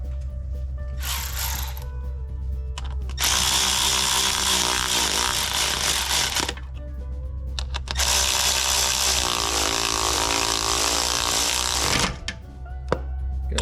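Power tool running in two long, loud, buzzing stretches, tightening bolts on a coolant reroute on a turbocharged Mazda Miata, with short pauses and small mechanical clicks between runs.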